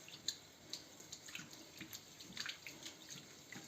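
Water splashes and runs as millet is rinsed in a kitchen and the water poured off, a close, steady trickling with small splashy bursts and no voices.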